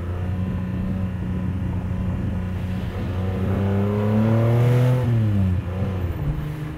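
A custom 1974 Datsun Fairlady 260Z with a stroked engine hums steadily while driving, then revs up with rising pitch before settling back; loud and close, with no talking.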